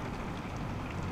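Heavy rain pours down in Conway, South Carolina, on a flooded garden in May, making a steady, dense hiss that fills the short stretch without voices or breaks.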